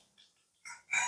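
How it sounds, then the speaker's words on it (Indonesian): A rooster crows in brief, bright bursts that rise to a louder final call, heard alone with no talk over it. "Nah sekarang kalau kamu mendengar ayam berkokok"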